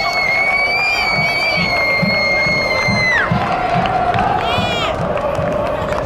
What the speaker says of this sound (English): You can hear the super fans cheering.